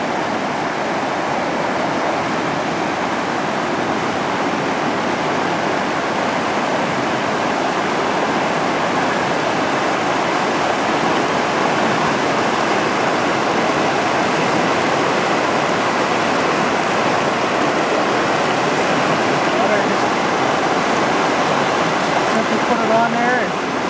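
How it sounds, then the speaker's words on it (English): Loud, steady rushing of a cold mountain stream close by, a dense broadband roar of water that holds unbroken for the whole stretch, with no voices over it. "It's a stream I'm going to get my water out of."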